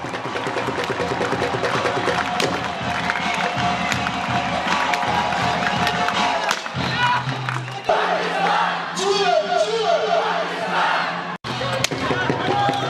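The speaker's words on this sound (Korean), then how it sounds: "힘찬 함성 소리가 울려 퍼지기 무섭게" A large crowd roars and chants in unison at the Pakistan–India border ceremony, rhythmic shouted cheers rising in waves with bursts of whooping, heard from a distance with talk over parts of it.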